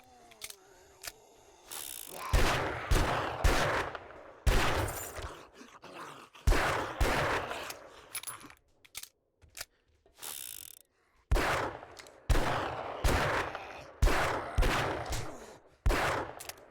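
Rapid gunfire in a modded 7 Days to Die session: sharp, loud bursts in repeated volleys with short pauses between them, heard alone without talk.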